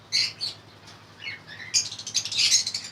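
Lovebirds in a breeding setup giving sharp, high chirps and squawks in short bursts, growing busier toward the end, with brief rustles of wing flapping between calls.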